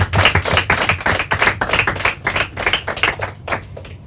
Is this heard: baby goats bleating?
no